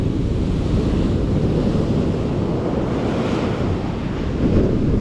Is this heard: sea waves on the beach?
yes